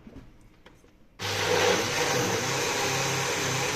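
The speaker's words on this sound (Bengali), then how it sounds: "এখন আমরা ব্লেন্ডার করব" An electric blender switches on abruptly after a quiet moment, whirring loudly and steadily as it mixes caramel pudding batter with sugar.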